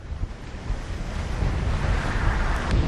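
A Lagoon 380 catamaran sails in 25 to 30 knots of wind, bound north toward Grenada. Steady roaring wind gusts across the microphone over continuous wash and crash of waves, loud and close throughout.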